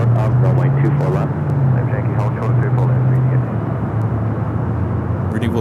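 An airliner moves toward a north side takeoff at Los Angeles International Airport, its steady jet engine drone heard from a distance beneath continuous talking.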